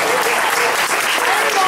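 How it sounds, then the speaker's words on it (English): Audience at a live country music show in a barn venue breaks into a loud, dense round of applause, continuous close clapping filling the whole moment. "Please make a nice round of applause for Butch and Lori Rose back there in the back."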